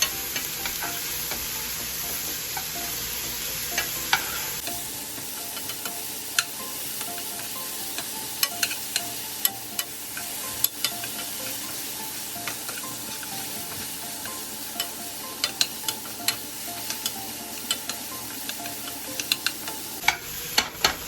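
Peppers sizzle and fry steadily in a pan, a constant crackling hiss with frequent sharp pops and the clicks of stirring, all without voices.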